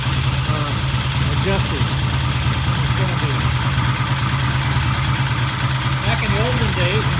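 A motorcycle engine on its first start idles steadily at about 500 RPM, a low, even, close throb running throughout while someone talks over it.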